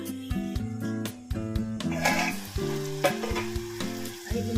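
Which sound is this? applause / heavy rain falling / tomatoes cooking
tomatoes cooking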